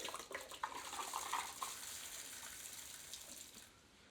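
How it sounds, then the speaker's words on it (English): A full bottle of red wine is poured quickly into a cooking pot for braised lamb shanks, a steady gushing glug of liquid close by, fairly quiet and continuous before tapering off. "here's how to pour the entire bottle in 5 seconds flat."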